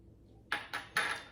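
Vinegar poured onto a mixture of paprika, turmeric and salt in a bowl, three short splashy bursts in quick succession, close and fairly loud against a quiet background.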